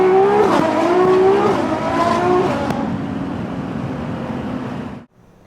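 A modified LaFerrari fitted with an FXXK exhaust and power tune revs hard, its loud engine note climbing and falling before settling into a sustained drone that cuts off abruptly.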